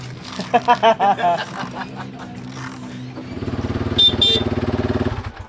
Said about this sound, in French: t'as un beau klaxon toi. Très beau klaxon.